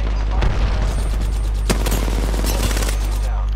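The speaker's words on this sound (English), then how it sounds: "Yeah, hit him with the nade." Apex Legends match with a grenade blast and gunfire, a steady din of rapid shots and a sharp bang amid heavy low rumble, with players talking over the action.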